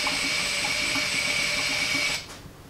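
A cordless drill whines steadily at high speed in a Golf 3 repair, a continuous tonal motor drone for about two seconds that then stops abruptly.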